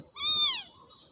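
A kitten rescued as a stray gives a single clear, close meow that rises and falls over about half a second, alone against a quiet background.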